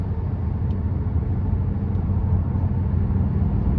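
A 2017 Nissan Rogue S with the 2.5 engine cruising on the road, heard from inside as a steady, loud low rumble of engine and road noise with no talking.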